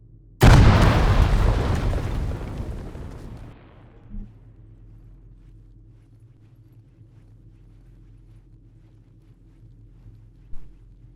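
An explosive charge in the video game Stargate ArmA detonates with a single loud, sudden boom that decays over several seconds into a rumbling tail, followed by quiet ambience and a couple of faint thuds.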